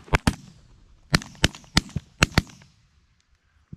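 Shotguns fire at incoming ducks during a waterfowl hunt: about seven sharp, loud blasts close by, coming in quick pairs and clusters over a few seconds, then quiet.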